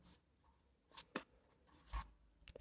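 Pen writing construction steps on paper, quiet and close, with a few short scratchy strokes separated by pauses.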